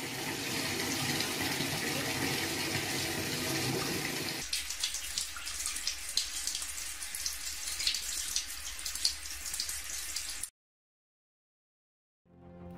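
Tap water runs in a steady splashing stream, louder and fuller at first and then thinner and brighter, before cutting off abruptly into silence near the end.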